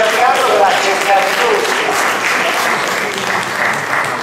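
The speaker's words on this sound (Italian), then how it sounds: "Un applauso per Totò, ma anche per Giancarlo, che l'ha cercato" A seated audience applauds warmly during a talk about the Italian comic actor Totò, with continuous, even clapping held at a steady level throughout.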